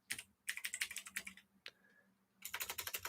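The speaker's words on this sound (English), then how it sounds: "if I can type here" Bursts of typing on a computer keyboard, rapid clustered keystrokes with a short pause partway through, close and fairly quiet with no talking.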